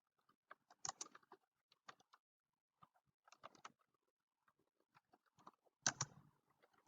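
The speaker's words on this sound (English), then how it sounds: "typing in the information that's presented in the book" Typing on a computer keyboard while entering textbook material into a Word document: scattered quiet key clicks come in small bursts and pauses, ending in a sharper cluster of taps, close and faint with no voices.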